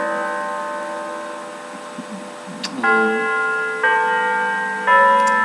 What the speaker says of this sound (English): Chime again.